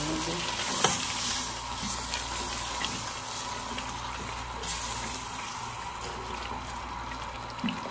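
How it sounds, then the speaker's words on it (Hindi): Meat sizzles steadily as it fries in a spice masala with a little water added, with scraping stirs in the pan close up and a constant hiss throughout. "हल्का हल्का पानी डाल के मैं फ्राई कर रही"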